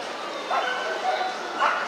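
Italian Greyhound at a European dog show in Paris, giving a few high yips and whimpers in a noisy, crowded hall with speech around.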